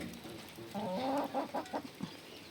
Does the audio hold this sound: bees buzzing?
no